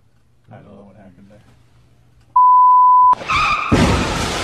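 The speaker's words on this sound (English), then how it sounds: "I even screwed up the beep." A single steady electronic censor beep tone, loud and flat, following a stretch of quiet talk, then cut off by a burst of noisy clatter.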